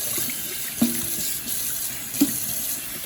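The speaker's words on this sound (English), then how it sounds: "Rinse your sink out." Tap water runs steadily into a kitchen sink as it is rinsed out, a continuous close hiss with a couple of light knocks against the basin.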